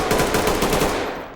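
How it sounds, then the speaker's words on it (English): A rapid burst of automatic gunfire in the tactical shooter game Ready or Not, a loud, close rattle of repeated shots fading into a short echoing tail. "we're already hearing gunshots right away"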